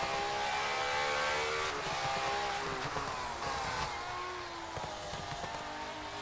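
BMW touring car racing at Spa in a sim racing game, a steady loud engine drone with rising and falling revs through gear changes, close and continuous.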